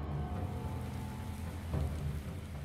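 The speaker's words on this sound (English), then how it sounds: "Hey, it's raining." Steady rain in the video game This War of Mine, a continuous soft wash of falling water over a low rumble, with a brief swell partway through and no talk.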